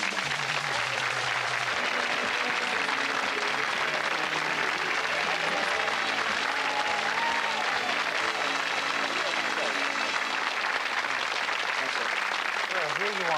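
A television game show studio audience in 1991 gives a big round of applause, loud dense clapping that fills the whole stretch without a break, with voices faintly beneath it.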